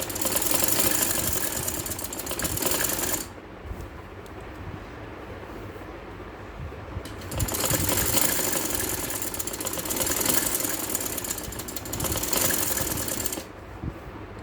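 A sewing machine stitches lace onto a kameez down to the hem, running in two long, loud, even bursts with a quieter pause between them.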